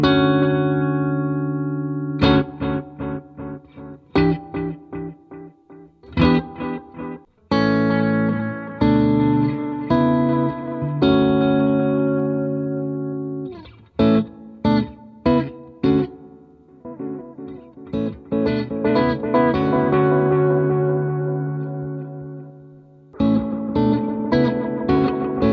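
Electric guitar through a Yamaha THR amp plays a series of chords and notes with a tape echo effect trailing each phrase, the repeats warm and slightly dulled, loud and close.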